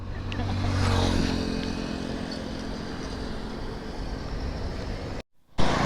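A motorcycle rides along with a steady, fairly loud engine drone and road rumble, which drops out abruptly for a moment near the end before returning.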